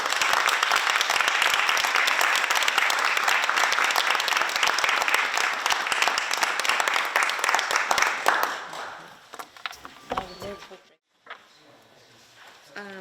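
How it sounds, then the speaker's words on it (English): A school committee audience gives a round of applause for students, with steady crowded clapping that thins out after about eight seconds into a few scattered claps before a hush and faint room noise. "I think we should do one more round of applause for all of our amazing students."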